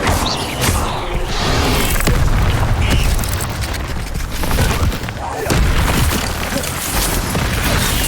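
Incendio fire spell in Hogwarts Legacy erupts in repeated loud, close whooshing booms and crashing bursts amid chaotic combat noise, with a voice heard in the mix.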